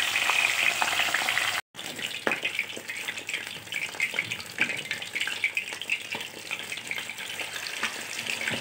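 Three small salted, lemon-rubbed fish frying in a covered pan make a steady hissing sizzle with scattered crackles and pops. A short silent gap sits near the start, then the frying continues evenly and close.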